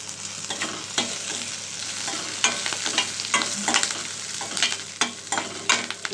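Fenugreek seeds and other chutney ingredients for ridge gourd pachadi fry in hot oil, a continuous sizzle broken by frequent scraping, clinking stirs of a spoon in the pan.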